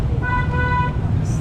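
Busy city street traffic in Jolo, Sulu, with a steady roar of engines and a sustained car horn blast that stands out clearly above the rumble.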